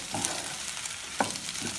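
Eggs, potatoes and wild asparagus stirred in a frying pan, a soft sizzle under scraping stirs with a couple of sharper clinks of utensil against the pan, close and steady.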